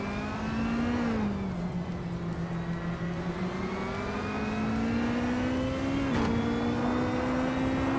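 2013 Caterham 620R race car engine holding a steady, loud drone throughout, pitch dipping slightly then rising gradually as it accelerates, with a brief shift around the end; no talk.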